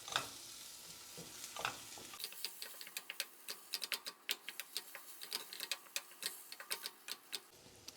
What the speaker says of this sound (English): go ahead and let that meat get brown